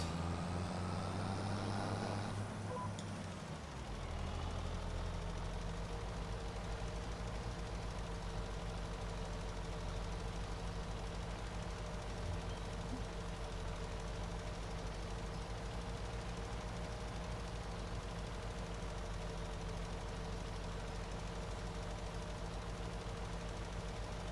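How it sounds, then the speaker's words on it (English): An engine working hard under load, a steady low drone and rumble that holds evenly after a brief shift at the start, with no voices. "When you put it under load and it really starts to work, the engine sounds completely different"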